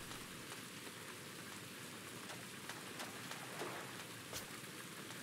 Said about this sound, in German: Oh, da müsste ja noch ein Dach drüber und da regnet es ja rein